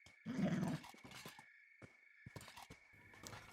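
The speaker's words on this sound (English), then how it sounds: "Another bone dog?" A bone dog in the Kenshi video game lets out a short, deep growl, loud at first and then fading into quieter game ambience with faint scattered clicks and rustles.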